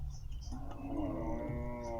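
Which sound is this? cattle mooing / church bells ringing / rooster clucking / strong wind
cattle mooing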